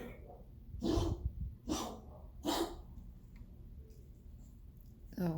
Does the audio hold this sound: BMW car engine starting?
no